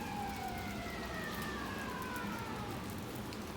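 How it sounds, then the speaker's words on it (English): Emergency vehicle sirens wail far off in the distance, several rising and falling tones overlapping above a steady hiss of rain on a wet day. "You hear the sirens?"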